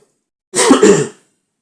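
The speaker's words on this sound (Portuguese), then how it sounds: "perdão pela tosse" A single short, rough cough or throat-clearing burst, close and fairly loud, lasting about half a second after silence.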